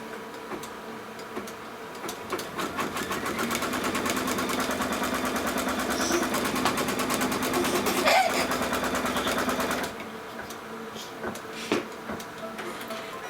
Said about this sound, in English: it's going to stitch the fabric tack down